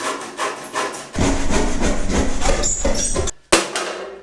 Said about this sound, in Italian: Direi di cominciare a segare.